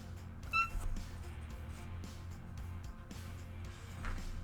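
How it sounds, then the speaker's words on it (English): A pet cat gives a short meow close by, standing out briefly over a low steady room hum with faint shuffling. "My cat says hello."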